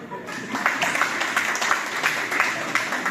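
Scattered, uneven clapping from an audience at a Rajasthan organisational meeting, moderately loud with distinct individual claps and some voices mixed in.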